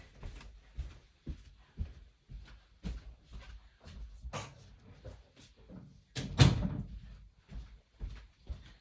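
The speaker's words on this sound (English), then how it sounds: "I'm just going to close the door" Indoors, a door is pushed shut with one solid thud, preceded by soft shuffling and handling noises.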